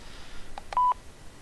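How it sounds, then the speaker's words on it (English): An in-game telephone in the interactive drama Façade gives off a short burst of electronic tones: a few clipped beeps, then one louder sustained tone, heard fairly close over a quiet background. "Phone's ringing. That's in game."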